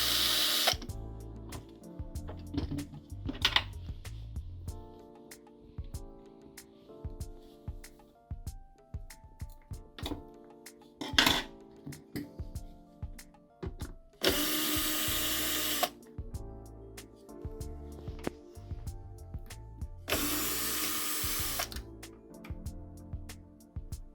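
A power screwdriver or drill removes screws from a JBL PartyBox On-The-Go speaker during teardown, sounding in loud whirring bursts alongside steady music playing throughout.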